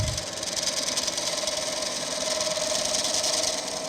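Wood lathe spinning an ash workpiece at low speed, around 600 to 700 RPM, with a tool drawn across the surface, giving a steady continuous whir and hiss with a faint rattle, even and moderately loud throughout.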